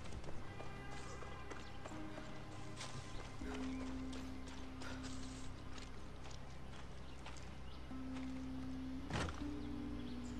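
Horse hooves clip-clop in the video game Far Cry 6, a quick running gait heard faintly under a loud game soundscape with steady tones and a sharp crack near the end.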